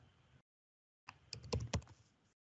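Brief burst of computer keyboard typing, a short cluster of quick keystrokes after a pause, close and fairly quiet.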